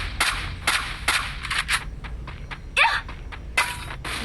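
Rapid gunshots from the mobile battle game Free Fire ring out in sharp bursts, several distinct cracks and short volleys spread across the clip over a low background rumble.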